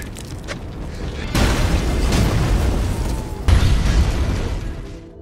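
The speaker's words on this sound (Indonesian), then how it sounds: "sebentar lagi mobil itu akan meledak." A car blows up in an action-film scene, heard as a loud booming explosion that erupts suddenly, roars on with a dense rumble, then hits a second heavier burst before fading out.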